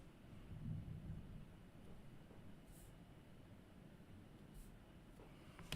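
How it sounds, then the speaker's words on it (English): Distant thunder from a storm rolls in low and faint, swelling briefly near the start and then settling into a soft background rumble with light wind noise. "Storms again?"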